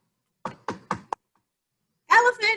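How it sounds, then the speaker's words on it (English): Four quick, solid knocks rap on a door, close and distinct, followed after a short pause by a person starting to speak. "Owl knocked on Elephant's door."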